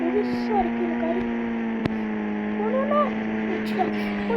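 A supercar engine drones steadily in the mobile game Indian Bike Driving 3D, a constant mid-pitched hum with faint shifting tones and a brief click.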